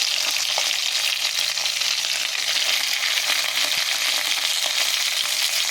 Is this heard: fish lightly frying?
yes